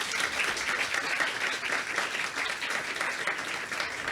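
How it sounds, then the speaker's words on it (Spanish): Steady audience applause at an educational talk on human papillomavirus, a dense even patter of many hands clapping throughout, fairly soft and without speech over it. "un aplauso para ella también."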